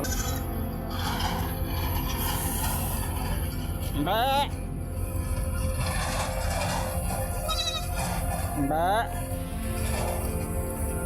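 Young goats bleat twice in short wavering cries outdoors near a riverside, over constant background noise with a faint vehicle rumble.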